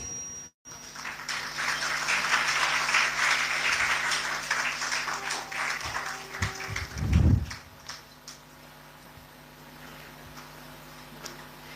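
Applause at a school annual celebration for children being honoured, a steady, moderately loud spread of clapping that swells and then fades over several seconds, followed by a low thump and quieter room noise.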